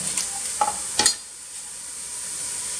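Mushrooms cook in a pan for a chicken cacciatore, a steady soft hiss of frying with a few brief clatters of stirring near the start, close and fairly quiet.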